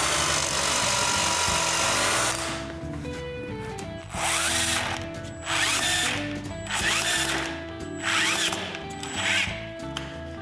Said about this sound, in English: Then I can drill and screw them in place.